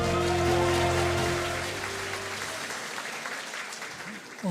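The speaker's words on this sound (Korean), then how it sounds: "여러분 큰 박수 부탁드리겠습니다" Audience applause at a Democratic Party members' conference for the Busan, Ulsan and Gyeongnam region swells loudly at first, then thins and fades. A sustained tone sits under the opening, and a voice starts up near the end.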